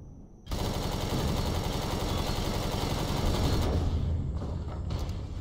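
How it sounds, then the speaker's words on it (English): Sustained automatic gunfire roars in a space battle in Empyrion: Galactic Survival, a loud continuous rattling burst that starts abruptly and then thins into scattered shots near the end. "you're going to shoot a rocket before me, before I can shoot you, but your rockets don't seek."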